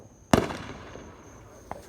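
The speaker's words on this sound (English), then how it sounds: "I've never seen that fireworks so short." A single sharp firework bang on the Fourth of July, followed by a fading crackle and a fainter second pop, heard alone.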